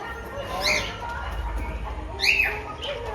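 Two short bird calls ring out about a second and a half apart, heard over a low background rumble.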